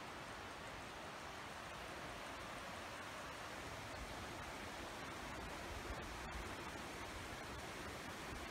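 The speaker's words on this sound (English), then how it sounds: "You can hear the Lochsa River right below me running." Steady broadband rushing of the Lochsa River in Idaho flowing just below, continuous and fairly loud with no voices over it.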